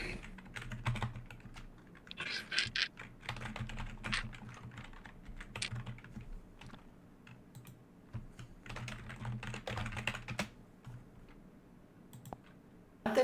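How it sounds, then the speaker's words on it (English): Rapid, uneven clacking of computer keys being typed, coming in bursts with brief pauses, fairly close, with no voices. "The clackety clack of the keyboard"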